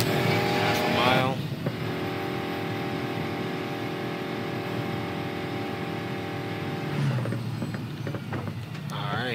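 A '65 Ford Mustang engine in an off-road sprint race in Need for Speed Payback, revving loudly at first, then settling into a sustained steady drone before another surge, with a voice briefly present.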